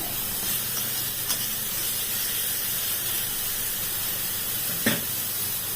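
Bhetki fish sautéing in a pan with a splash of water, giving a steady, dense sizzling hiss throughout, with a couple of faint clicks over it.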